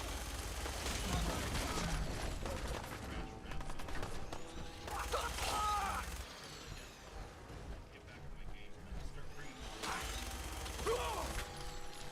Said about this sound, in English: Yes, it's a minigun